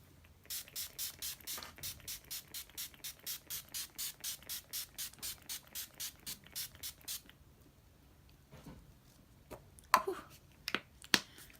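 Urban Decay All Nighter setting spray goes off in a rapid, evenly spaced series of about two dozen short misting bursts, close and clear, followed by a few scattered clicks and rustles.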